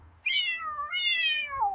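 A cat meows twice in a long, drawn-out, wavering call, close and clear with nothing else around it.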